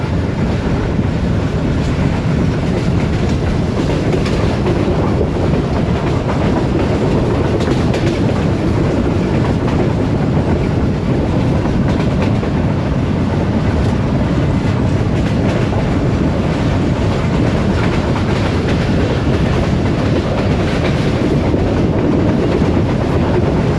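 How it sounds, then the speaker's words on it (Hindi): Inside an air-conditioned standard coach of the Subak Raftar express between Gujrat and Lahore, a loud, constant rumble of wheels and rushing air fills the cabin without a break, with faint rhythmic rail clatter beneath. "ट्रेन हमारी इस वक्त मुरीदके की जानिब बढ़ रही है।"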